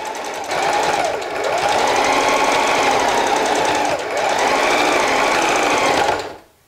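Sewing machine stitching fabric laid flat, running in two loud continuous bursts with a brief slowdown between them before stopping abruptly, close by with no talking.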